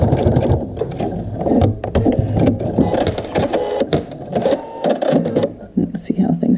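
A sewing machine stitches through a strap as part of an adjustable strap assembly, a busy mechanical chatter running steadily and close throughout, with a voice mixed in.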